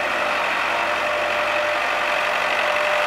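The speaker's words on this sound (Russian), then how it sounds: "это как движок так работает" A diesel engine of a 2007 MTZ-82 tractor fitted with a front loader idles steadily with a constant low rumble and mechanical whine, close and continuous throughout.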